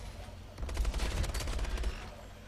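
Rapid bursts of automatic gunfire from the video game Call of Duty: Advanced Warfare, a dense, loud fusillade of overlapping shots lasting about a second and a half.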